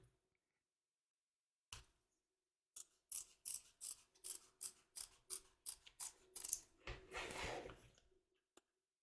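Scissors snip through fabric around an embroidered segment in a hoop, a quick run of about a dozen crisp, evenly spaced cuts, close and clear against near silence.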